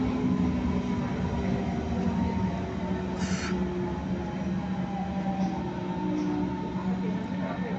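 An ICE 1 high-speed train standing at a Berlin platform gives off a steady low rumble and hum, with a brief hiss partway through, while people talk nearby.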